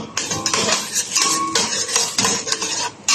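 Garlic being sautéed and stirred in a pan for a simple pasta dish, heard as steady metallic utensil scraping and clinking against the pan with a faint sizzle underneath, close and fairly loud throughout.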